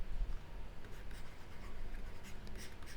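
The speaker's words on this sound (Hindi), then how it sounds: "यहाँ लिख देता हूँ" Writing on a board during a vocabulary lesson, with continuous scratchy strokes close by and no one talking.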